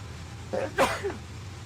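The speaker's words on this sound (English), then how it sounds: "I'm going to sneeze" A single sharp sneeze bursts out over a low steady hum, preceded by a brief breathy intake and followed by a short trailing exhale.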